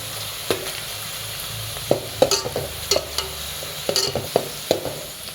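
Onions and chillies stir-fried in oil for a chicken fry, with a steady sizzle under sharp, irregular spoon-scraping clatters against the pan, close and clear, no voices.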